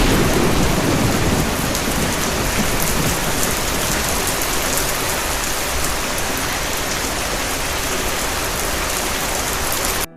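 Steady heavy rain pours down in a dense, continuous hiss, with a deep rumble of thunder underneath throughout.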